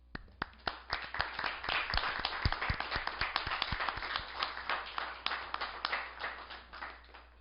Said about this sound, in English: So, to Mrs. Lackey, a round of applause.